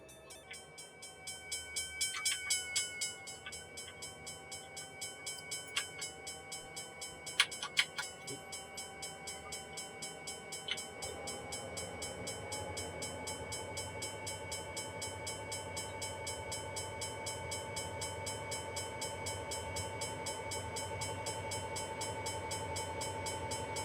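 An SD45T-2 diesel locomotive train on Donner Pass in Train Simulator 2018 makes a flyby, with horn blasts early on, then a loud, sustained rumble of diesel engines and rolling wagons building as it passes close.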